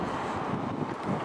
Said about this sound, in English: it's very windy around here today apparently